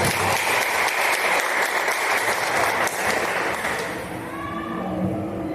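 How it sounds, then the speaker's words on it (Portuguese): A church congregation at a women's gathering applauds steadily and loudly for several seconds, then the clapping thins and fades as a voice begins to speak. "Podem se sentar em nome de Jesus, aplaudindo a palavra do Senhor."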